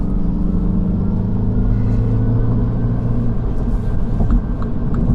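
A 2020 Mini Cooper S 4-door pulling hard through a corner, its engine a steady loud rumbling drone heard from inside the cabin, with no talk.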